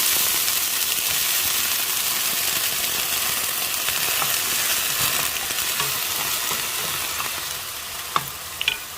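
Broccoli stir-frying with garlic in a hot pan, giving a loud continuous sizzle with occasional stirring clinks near the end.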